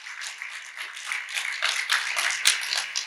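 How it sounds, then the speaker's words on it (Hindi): An audience at a spiritual talk claps in sustained, moderately loud applause, a dense patter of many hands that holds steady for several seconds. "एक बार जोरदार अपने लिए ताली बजा दो"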